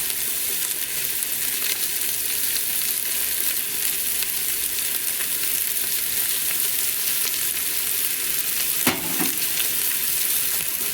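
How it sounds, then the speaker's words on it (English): Minced garlic sizzling in a pot of oil as the base for a minestrone, with a steady, dense frying hiss throughout and one brief clink of a utensil near the end, close and unbroken. "Okay, now it says to add the garlic, which is 4 large cloves of garlic that are minced."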